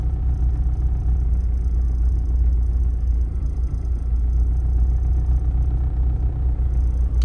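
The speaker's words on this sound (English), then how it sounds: "even sitting down in the car with the engine running," A car engine idles and runs as a steady low rumble, heard from inside the cabin after sound-deadening mat has been installed, constant and moderately loud with no talk.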